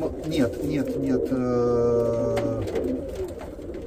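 Racing pigeons cooing in a loft, a steady low throaty coo running for a couple of seconds, with someone speaking over it.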